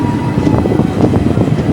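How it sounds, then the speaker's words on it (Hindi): A passenger train pulls away from a small station in the Saranda forest of India, giving a steady loud rumble with rhythmic wheel clatter and no voices. "पाटा शाही स्टेशन से अपनी ट्रेन आगे की ओर बढ़ती हुई"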